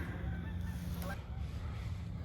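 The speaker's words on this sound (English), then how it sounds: "some geese flying over." Geese honk faintly in the distance over outdoor background noise, a few scattered calls in quick succession.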